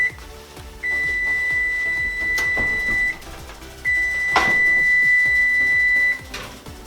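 An electronic oven timer beeps in two long, steady high-pitched tones, each lasting a couple of seconds, with a short clatter and quiet room noise between them.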